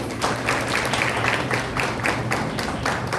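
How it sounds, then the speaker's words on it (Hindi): Audience applause at a children's programme in Bangalore, with a dense, steady wash of many hands clapping together that continues evenly throughout. "आप लोग एक बार जोरदार तालियां बजाइए।"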